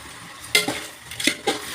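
Chicken curry made with roasted ground coconut is stirred in a pan, giving a few scraping stir strokes and clinks over a soft sizzle, close up and without talk.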